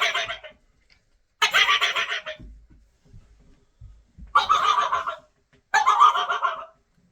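A voice imitates a turkey gobble using a diaphragm mouth call, four loud rattling bursts, each about a second long, separated by short silent gaps.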